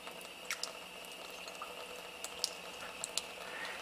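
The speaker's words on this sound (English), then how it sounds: "We'll fill the tube up about half again and add our 3 or 4 drops" Water trickling from the spout of an AlkaViva Athena water ionizer into a test tube, a faint steady splash with small scattered drips against a quiet room hum.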